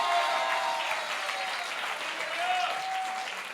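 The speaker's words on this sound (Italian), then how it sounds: "farlo forte questo applauso?" Church congregation applauds steadily, a continuous wash of many hands at moderate distance, with faint voices in the background.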